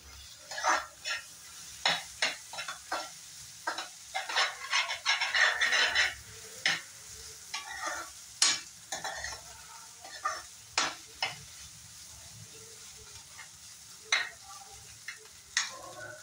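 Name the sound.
egg and onion frying and stirred like egg bhurji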